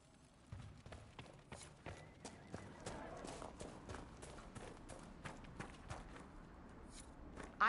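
Horse hooves clip-clop at a steady walking pace in the fantasy game Dragon Age, a chestnut purebred Ferelden Forder, soft and fairly close with faint ambient noise.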